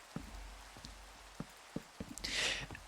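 Rain falls in the Minecraft video game as a soft, steady hiss, with a few faint taps scattered through and a brighter whooshing swell near the end.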